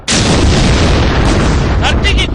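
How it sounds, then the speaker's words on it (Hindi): Indian Army artillery guns firing shells make a loud sustained blast and roar that fills the clip, then ends in a few rumbling after-bursts. "आग उगलते ये बारूदी तोपें"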